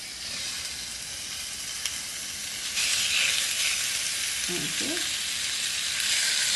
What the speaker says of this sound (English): And that sizzle is a good sign